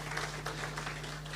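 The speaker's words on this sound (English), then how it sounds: "I want you to clap for yourself that you made it here." Attendees at a meeting clap for themselves in a short, fairly faint burst of many hands, with a steady low electrical hum beneath.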